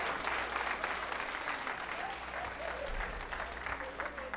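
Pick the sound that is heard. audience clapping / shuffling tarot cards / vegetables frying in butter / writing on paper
audience clapping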